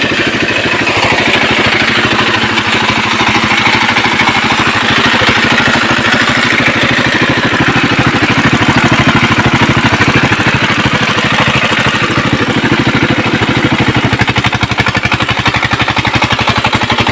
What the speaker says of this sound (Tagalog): Ito pala yung makina nila para magkaroon ng kuryente.